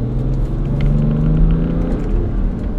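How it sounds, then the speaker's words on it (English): A BMW X5 40d twin-turbo pulls hard at full throttle from inside the cabin, a deep steady engine drone with rising harmonics building over a low road rumble, loud and continuous. "So if I get a straightaway, yeah, here we go, and foot to the floor."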